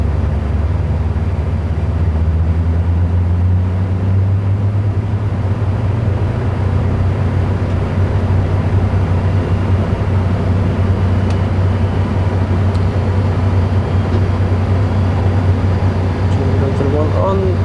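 Aircraft turbine engine spooling up during an engine start, heard from inside the cockpit: a steady, loud low-pitched drone and hum that holds throughout, with a faint rising whine near the end.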